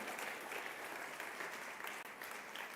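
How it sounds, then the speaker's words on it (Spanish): A church congregation gives dense, continuous applause, a wash of many hands clapping at once that holds steady throughout, with no distinct voices. "Dale un fuerte aplauso a ese Jesús"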